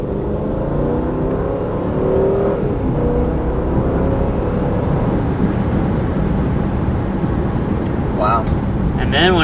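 The V8 engine of a 2019 Mercedes-Benz S-Class accelerating, a smooth, rising drone building steadily under the cabin while people talk over it.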